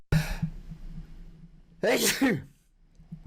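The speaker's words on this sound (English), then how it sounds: "I'm going to sneeze, so I'll mute the microphone." A short breath, a pause, then a single loud close sneeze, followed by quiet.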